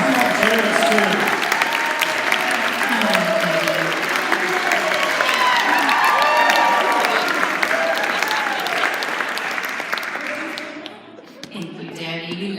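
A church audience applauds and cheers for Debbie, with sustained loud clapping and voices over the top that fade near the end into quieter murmurs.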